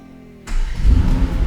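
Mercedes-AMG GT R twin-turbo 4-litre V8 firing up: a brief starter whir, then a sudden loud, deep bark as the engine catches and settles into a rumbling idle.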